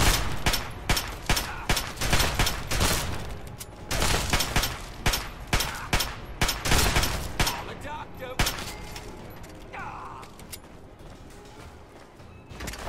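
Repeated loud shotgun blasts in Fallout 3 gameplay, firing in a rapid series of sharp bursts over the first eight seconds and then thinning out to sparse, quieter shots.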